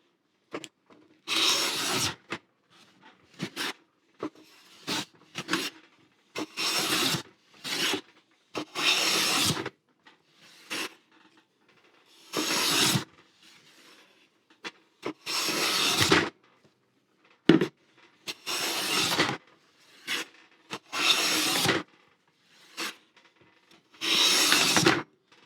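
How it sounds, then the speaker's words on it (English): A very flat hand plane is pushed along a wooden board, giving repeated loud rasping strokes of a second or two each, separated by short pauses and lighter scrapes, close up with no speech. "So let's see if we can take a shaving and see"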